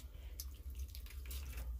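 Water running into a pot of Jamaican brown stew pork, a brief, faint, steady trickling stream with no talk over it.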